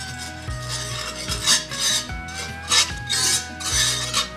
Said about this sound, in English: I'm going to whisk this together, and then we'll slowly start adding the milk to thicken it